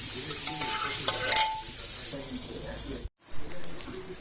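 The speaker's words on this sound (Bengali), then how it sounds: "সয়াবিনগুলো ভালো করে ভেজে নেব" Soybean chunks fry in a pan with a steady, close hiss of sizzling oil, broken by a few stirring scrapes and utensil clinks and a brief drop to near silence before the sizzle resumes.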